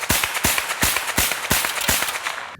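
Turnbull-Browning SA-22 rifle with walnut stock and steel action fires a rapid series of sharp, close cracks, roughly ten shots in about two and a half seconds, each with a short tail.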